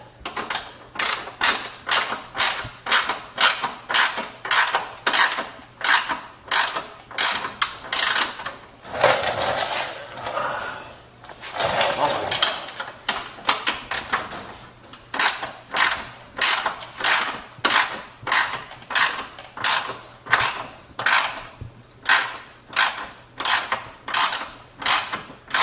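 Hand ratchet cranking fender bolts onto a Jeep JK Rubicon, a steady run of close, crisp clicks in a regular rhythm with two brief pauses, no talking.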